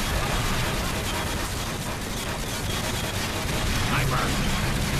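Continuous, dense gunfire and explosions as a Soldier shoots the tank in Team Fortress 2's Mann vs Machine mode, a loud chaotic battle wash with a charged shot landing among the blasts.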